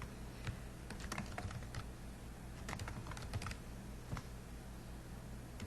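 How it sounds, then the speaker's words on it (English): Quiet keystrokes tap on a computer keyboard as a name is typed in, coming in short irregular bursts with brief pauses and no voices. "So I'm going to type her name in here."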